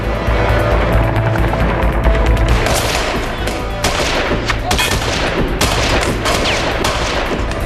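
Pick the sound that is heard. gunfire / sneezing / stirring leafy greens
gunfire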